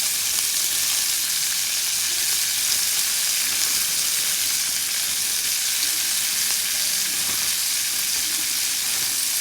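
Shredded cabbage fries in a hot pan with a steady, dense sizzle and hiss that stays even and close throughout, with faint stirring beneath it.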